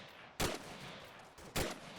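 Two sharp, loud gunshots ring out about a second apart in the Arma 3 combat game, each a brief crack over a quiet background.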